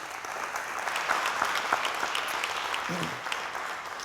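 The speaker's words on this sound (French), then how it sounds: "On applaudit bien fort pour les enfants tchadiens." An audience applauds Chadian children at a parish holiday event, a sustained wash of clapping from many hands throughout, slightly uneven but steady.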